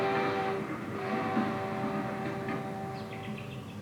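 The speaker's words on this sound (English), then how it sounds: "Leland Stanford's special train, pulled by a locomotive named Jupiter, advanced down the Central Pacific line." A steam locomotive on the Central Pacific line rumbles along with a steady rolling drone, while a sustained, tonal whistle-like sound hangs over it and a few faint high chirps come near the end.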